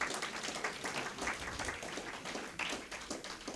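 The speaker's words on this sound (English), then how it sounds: "Let's give him a round of applause" An audience applauds at a weekend community event, a steady patter of many hands clapping. It is fairly faint and even throughout, with no talking over it.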